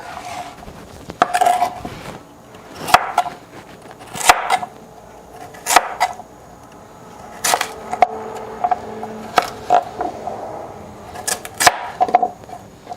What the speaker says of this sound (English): I definitely have never ever in my life cut sweet potatoes that are quite so firm and crispy